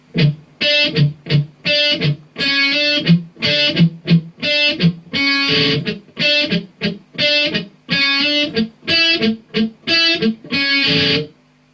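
An electric guitar with effects plays an interlude dead slow, picking a repeating rhythmic pattern of chords and single notes with short gaps, steady and fairly loud with no talking.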